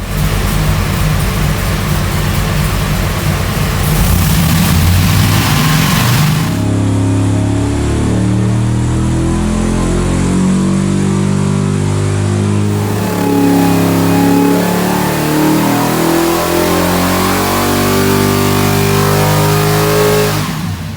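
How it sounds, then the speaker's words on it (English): A Mopar engine with a Proform orange ignition box revs hard through a dyno pull toward about 5,900 RPM, a loud, sustained rising roar that climbs and holds for around twenty seconds. "we're ready to make our first pull on that Proform box"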